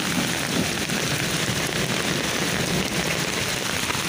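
Heavy rain keeps falling over a village pond, a constant close patter and hiss of drops on surfaces, alone without talk.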